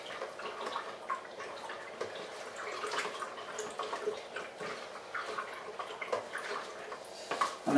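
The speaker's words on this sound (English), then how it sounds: "we're now going to use the racking cane just to give that a very good stir" A racking cane stirs grape juice for wine, giving a soft, faint sloshing and swirling of liquid. Light taps and ticks repeat as the cane knocks inside the vessel, close up and quiet.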